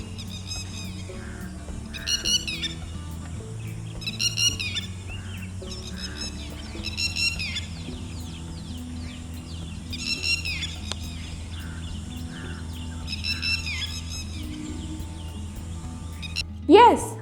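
Small birds chirping and calling in short bursts every couple of seconds over a steady, continuous musical background, fairly clear and moderately loud.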